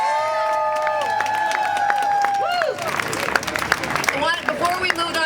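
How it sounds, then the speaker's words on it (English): Crowd applause and cheering at an outdoor Seattle rally against U.S. war and occupation, honoring a group of grannies; steady clapping mixed with whoops and crowd noise, fairly close, with a tonal whine fading early on. "another round of applause for the grannies."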